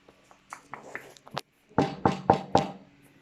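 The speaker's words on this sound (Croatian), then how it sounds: "do vrata seoskog dobra i pokucao." Four loud, evenly spaced knocks on the door of a farmhouse on a country estate, sharp and close, following a few faint softer taps and rustles.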